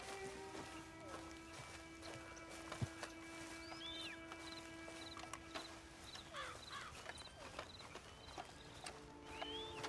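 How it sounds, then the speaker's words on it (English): Horse hooves clip-clop in the video game Red Dead Redemption 2, a quiet irregular patter of steps heard over a faint outdoor ambience with birdsong, fairly distant and low in level. "Get on the horse there."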